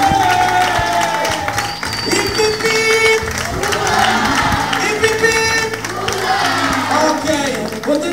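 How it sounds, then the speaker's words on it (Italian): Wedding guests give the newlyweds a loud, sustained round of applause with some cheers and whoops, a busy crowd sound with voices and a background tone running beneath it. "Un applauso ancora."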